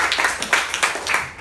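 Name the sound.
applause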